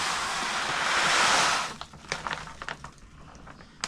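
Fluval Stratum aquarium substrate poured into a tank, a steady granular hiss for about a second and a half, then scattered soft ticks and trickles as the last grains settle, close and fairly loud.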